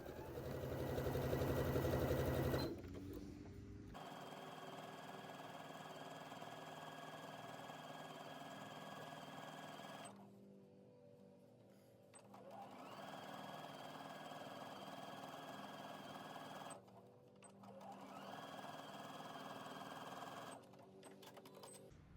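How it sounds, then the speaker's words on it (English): A sewing machine edge stitching the folded seam at the bottom of a dress runs in steady bursts, a close mechanical whir broken by short pauses between runs. "Now we're going to start stitching from the bottom of the dress, and you're going to edge stitch the folded seam in place."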